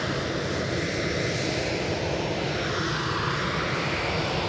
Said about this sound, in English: EasyJet inbound from Krakow.